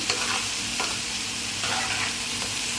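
Potatoes being stirred with salt in a frying pan, a loud close scrape-and-sizzle with a few sharper stirring strokes breaking through the continuous hiss; no talking.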